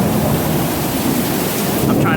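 A thunderstorm with heavy rain during a flash flood in Florida makes a loud, steady roar of pouring rain and wind that fills the whole stretch without a break, with low rumbling underneath.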